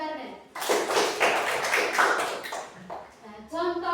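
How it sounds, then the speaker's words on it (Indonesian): A small group claps for a girl named Garnet, a short burst of hand claps starting after a spoken phrase and lasting about two seconds, followed by speech. "tepuk tangan buat Garnet"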